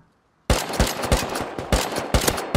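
Rapid automatic gunfire in the Rust video game: a loud, close burst of shots, then more volleys in uneven clusters with short gaps between them.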